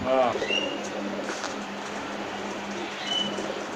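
Soft pigeon coos and a few bird chirps sound over a steady background hum in Pakistan, with no talking.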